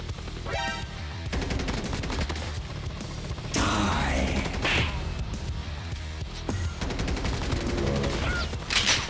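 Shotgun blasts and rapid gunfire ring out in a Call of Duty Mobile match, several sharp bursts spread across the stretch, loud and crashing, with little talk.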